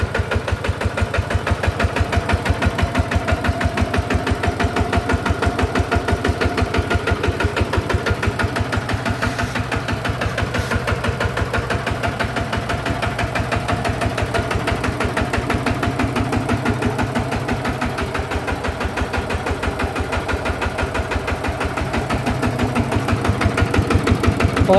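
A 14-horsepower hybrid-engine walking tractor runs steadily for the whole stretch, its close, loud engine thudding in a fast, even rhythm with a slight knock and no talk over it.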